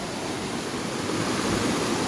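Water in the Locha stream in Nepal rushes continuously with a dense, even roar, close and loud, and no voices are heard.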